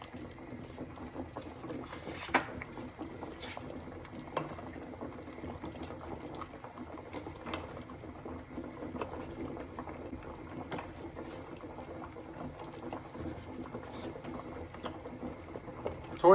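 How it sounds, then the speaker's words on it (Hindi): Lasagna strips for a beef lasagna dropped one by one into a pot of boiling water, with a steady, close bubbling and hissing simmer that runs throughout, alone without talk. "अब हम स्ट्रिप्स को ऐड कर रहे हैं। 1 बाय 1 जो है हम स्ट्रिप्स को ऐड कर देंगे पानी में।"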